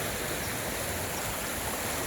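Water rushing steadily through a man-made canal in Bali, a continuous close, broadband flowing wash with no voices over it.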